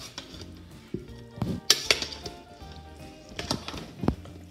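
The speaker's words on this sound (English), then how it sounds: "Got my spoon, let's stir it up." A spoon stirs homemade salsa in a bowl, knocking and clinking against the sides in several distinct, uneven strokes, close up and without speech.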